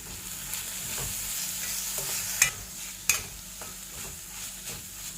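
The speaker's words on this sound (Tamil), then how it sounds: "வெங்காயம் வதங்கிறதுக்கு கொஞ்சமாக உப்பு போடுறேன்." Onions frying and stirred in a pan with a little salt: a steady, close sizzle with soft scraping strokes and two sharp clinks of a utensil against the pan.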